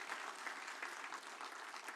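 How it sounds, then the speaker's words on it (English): A crowd claps steadily, a dense even patter of applause throughout with no voices. "one more round of applause"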